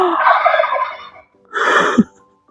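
A bird called a kul-kul gives two loud, close, gobbling calls, each a rough burst lasting about a second, separated by a short silence, with no talk.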